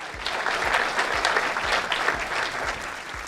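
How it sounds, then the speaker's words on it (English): Award recipients at a regional chamber's Greater Good Awards ceremony receive steady applause from the audience, a dense wash of clapping that holds at an even level throughout without fading. "Please give them all a round of applause"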